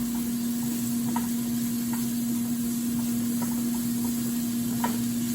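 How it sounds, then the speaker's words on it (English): Salt, pepper and garlic are stirred in a pan over a constant hum, with light scattered clicks and scrapes of a utensil against the pan, faint sizzle underneath. "I'm gonna take some garlic, and I'm gonna stir all that together"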